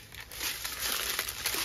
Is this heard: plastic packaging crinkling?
yes